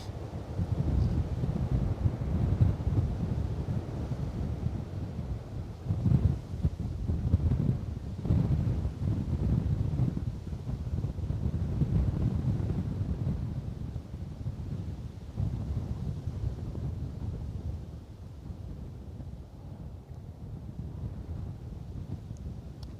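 Strong wind buffets the microphone at Bristol Airport, a continuous low roaring rumble with gusty surges that stays loud throughout, with no talking.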